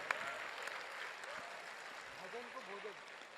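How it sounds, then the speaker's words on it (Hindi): Brief applause from the audience at a Holi-special Hindi kavi sammelan in Kolkata, a light patter of clapping with a voice speaking over it. "तालियां आपने कम बजाई"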